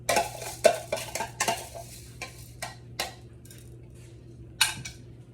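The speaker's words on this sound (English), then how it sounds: "I'm just gonna gently stir this around" Parboiled rice stirred in a pot, a spoon scraping and clinking against the metal in a quick series of strokes that thin out toward the end over a faint steady hum, no talk.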